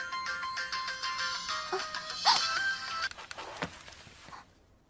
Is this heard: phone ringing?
yes